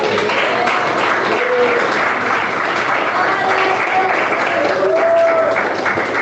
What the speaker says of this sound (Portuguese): E bate palmas.